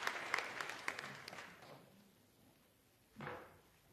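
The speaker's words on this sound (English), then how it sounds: "Can we please welcome Mr. Ngitila with another applause?" Applause from a summit audience welcoming a speaker fades out over the first couple of seconds, faint and somewhat distant, followed by a brief soft rustle.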